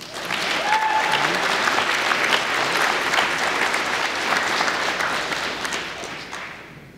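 At a high school awards ceremony, a crowd claps warmly and continuously, a thick, even patter of many hands that swells early and gradually fades toward the end; a brief voice pokes through near the start.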